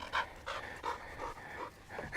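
A dog pants rhythmically in a remote kennel, several quick breaths close by and fairly loud, with no talk over it.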